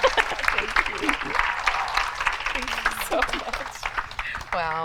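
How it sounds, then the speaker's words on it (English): Audience applause and cheering at a success panel event as a speaker is brought to center stage, broad clapping under a lively crowd with voices and shouts mixed in, fairly close and continuous. "thank you for that applause and recognition"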